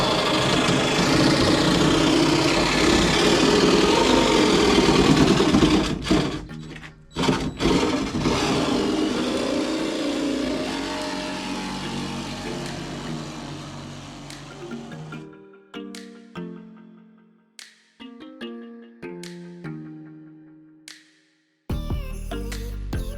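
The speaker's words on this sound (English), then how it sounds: "I'm just going to cut the board" A power saw cuts through a plywood board for a campervan wall in a Fiat Scudo conversion, running loud and continuous for about fifteen seconds before winding down into quieter intermittent knocks and clatter.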